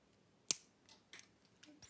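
A single sharp snip comes as beading wire is cut off a beaded wire bracelet. It is quiet and close, followed by a few faint small clicks.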